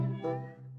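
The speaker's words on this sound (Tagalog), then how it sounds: "May pusa pa dito." A single cat meows close by outdoors in the hills, one short drawn-out call that rises and then falls, heard clearly with no speech over it.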